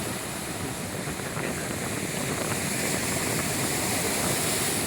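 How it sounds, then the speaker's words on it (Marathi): Water gushes forcefully and splashes up in a dense, continuous roar, loud and steady with no voices heard. "एवढं पाणी वरती उडवत आहे ना आता. खूप जोरात येतात ते बघा."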